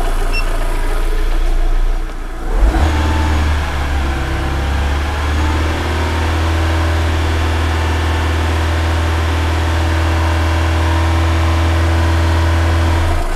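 A car engine turns over and catches, then settles into a loud steady idle with a low rumbling hum that holds nearby.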